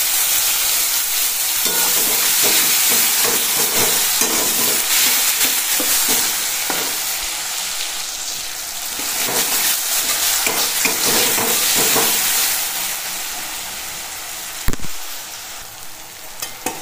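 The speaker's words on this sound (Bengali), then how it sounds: "পেঁয়াজটা ভাজা হয়ে গেছে," Chopped onions sizzle loudly in oil with a little sugar in a pan, with a constant hiss and repeated scraping strokes of a spatula stirring them.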